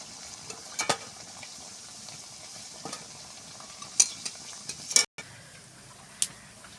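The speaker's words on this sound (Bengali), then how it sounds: "এরকমই সবগুলো ভেজে নেব লাল লাল করে" Flour-based snack pieces fry in hot oil, a faint steady sizzle broken by several sharp clinks and scrapes of a utensil stirring and lifting them from the pan.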